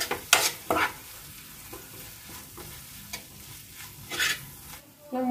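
Crab curry masala of chilli powder, fennel and ground coriander and cumin frying in a pan, with several loud scraping stirs breaking over a steady low sizzle.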